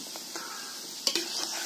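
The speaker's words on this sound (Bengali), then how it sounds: "এভাবে লাল লাল করে ভেজে নিতে হবে।" Snacks fry in hot oil with a steady sizzle, broken by a few sharp clinks and stirring scrapes of a utensil against the pan, close up.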